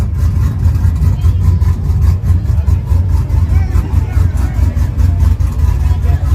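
An all-wheel drive car doing a burnout gives a loud, continuous low engine roar with a pulsing rhythm. People talk nearby throughout.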